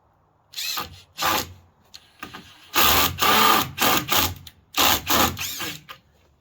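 Cordless power drill driving screws into wooden deck framing, in several sharp whirring bursts of about a second each with short pauses between, loud and close, with no talk.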